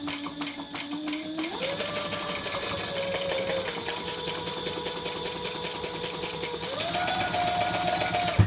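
A sewing machine runs steadily while stitching fabric for a hobo bag, its motor hum continuous and close, shifting pitch twice as the speed changes, with no voices over it.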